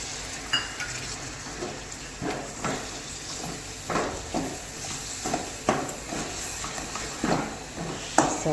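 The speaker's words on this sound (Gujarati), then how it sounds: "સારી રીતે આપણે બધું મિક્સ કરી નાખીશું" Tomatoes being stirred into a chili masala for a paneer gravy in a pan: repeated scraping strokes of a spoon against the pan, moderately close, over a soft sizzle with no talking.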